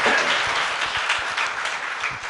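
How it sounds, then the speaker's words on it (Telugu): A church congregation claps in praise during a Telugu sermon, a loud, dense burst of applause that fades slightly as it continues, with no talking over it. "చప్పట్లు కూడా ఒకసారి మనం దేవుణ్ణి స్తుతిద్దాం."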